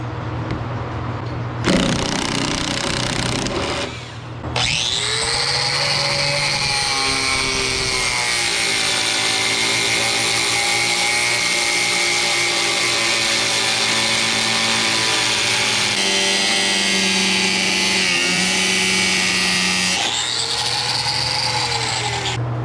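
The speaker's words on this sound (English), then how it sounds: "Here probably going to end up grinding it off." Power grinder cutting metal off dairy equipment during farm repairs, a loud continuous whine that runs steadily for most of the clip after a brief start, with a short pause and shifts in pitch as the tool bears on the metal.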